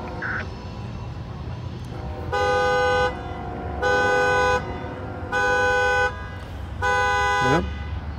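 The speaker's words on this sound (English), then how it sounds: "somebody hit their key fob there and car alarm's going off" A car alarm horn, set off by a key fob, honks in four long, evenly spaced blasts with pauses between, over quiet outdoor ambience at the Marion Union Station.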